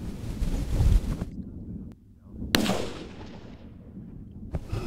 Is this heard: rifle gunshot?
yes